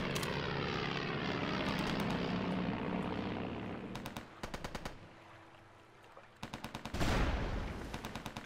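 Bomber aircraft engines drone loudly in the Axis and Allies RTS game, mixed with bursts of rapid machine-gun fire and a heavy thump of explosions, the engine roar fading and swelling throughout.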